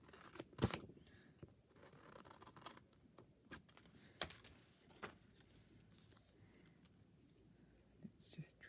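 Scissors trim scrap paper for a trifold card, making quiet, close snips and rustles at irregular intervals against a soft background.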